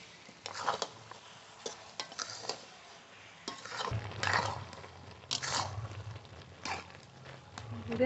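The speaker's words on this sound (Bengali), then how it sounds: "এবার এইভাবে নেড়ে নেড়ে ভালো করে একটু জাল দিয়ে নেব" Jaggery and jujube pickle cooking in a pan, stirred round and round with soft scraping, knocking strokes, fairly quiet, with a voice talking at times.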